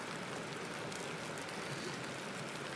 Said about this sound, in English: It's been raining all night. Just kind of coming down like this. Not raining too hard, just kind of a light rain